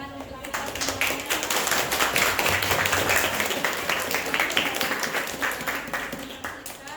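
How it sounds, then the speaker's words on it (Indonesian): A class applauds together at the end of a school lesson, a steady round of clapping for several seconds, loud at first and then tapering, with voices mixed in. "Tepuk tangan untuk kita semuanya."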